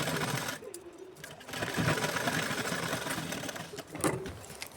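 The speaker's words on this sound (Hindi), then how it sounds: "उसे मैं पट्टी की साइड में करके मैंने एक खड़ी सिलाई लगा ली है" A sewing machine stitching blouse fabric runs steadily and close by, with a continuous whirring hum that briefly dips and resumes. No one speaks over it.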